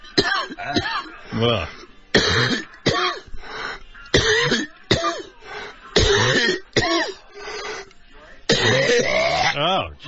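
Harsh, repeated coughing fits and throat clearing in close bursts, separated by brief pauses, with a groan among them.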